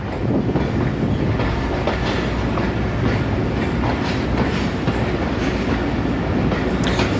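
Passenger train running on rails between Sialkot and Wazirabad, a loud, continuous rumble and rattle of carriages with faint rhythmic wheel clatter, heard from inside.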